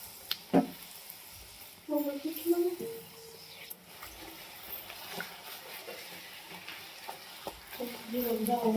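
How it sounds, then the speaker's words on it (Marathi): Puris made from leftover wheat dough frying in oil, a soft steady sizzle with scattered clinks and stirring noises, under intermittent voices and other household sounds. "मस्तपैकी अशा पुऱ्या पण तळून झाल्या."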